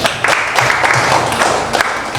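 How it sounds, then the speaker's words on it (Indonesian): A class of elementary school pupils applauds a classmate during a lesson, a steady patter of many hands clapping at close range for a couple of seconds. "Tepuk tangan buat Arin."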